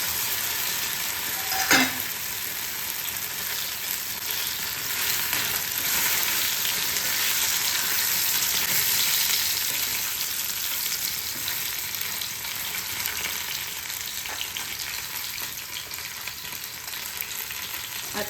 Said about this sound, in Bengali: আর একটু লবণ দিয়ে দেবো এই কচুটা ভাজা ভাজার মধ্যে